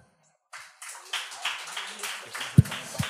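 Audience at a Gong Show comedy stand-up night breaking into applause after half a second of silence, a steady broadband patter of clapping that builds and holds, with a couple of sharp thumps near the end.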